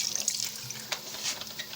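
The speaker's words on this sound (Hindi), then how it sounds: "मैं इसके अंदर तकरीबन हाफ़ कप जितना पानी मज़ीद ऐड करूँगा" Water is poured into a pot of chicken biryani, making a soft, continuous splashing trickle with a few brighter splashes.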